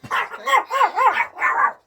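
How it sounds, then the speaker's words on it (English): A Pomeranian gives a quick run of four or five sharp, high-pitched barks, close and loud, with no voices over them. "the slightest noise and we have a lot of barking"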